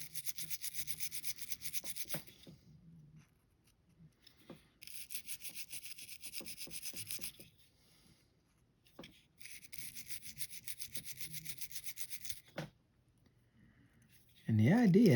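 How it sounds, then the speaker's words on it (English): Bristly acid brush scrubbing the interior tracks of a DAM Quick Champion 700B fishing reel during servicing, heard as close, steady raspy strokes in three bursts of a few seconds each, separated by quiet gaps with small clicks. "with an acid brush and start scrubbing down inside there"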